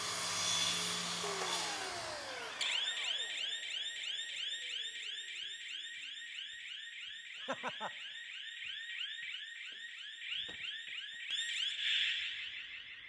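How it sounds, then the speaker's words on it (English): An electronic alarm goes off on a building site, a loud, rapid, repeating warbling tone that starts abruptly and holds steady, with a few clunks and knocks of work going on underneath. "Somebody put the alarm on me."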